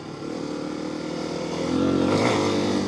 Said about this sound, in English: this bike's, I feel like it's a good deal quieter than the 650.